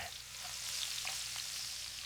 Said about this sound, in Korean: 지글지글